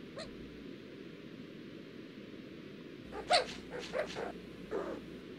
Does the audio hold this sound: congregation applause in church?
no